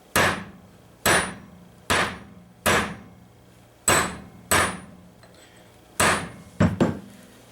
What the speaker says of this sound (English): I'm going to take a large ball peen hammer and go ahead and smash the threads on this